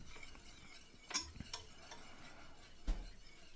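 Quiet stirring of a spice mixture of hot chili and smoked paprika in a pan, with a few soft scraping clicks of a spoon against the cookware over a faint background hiss.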